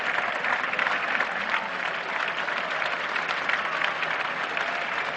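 Applause rises from West Indian fielders and a last-day crowd at a 1976 England versus West Indies test cricket match, a steady, even patter of clapping heard from a distance.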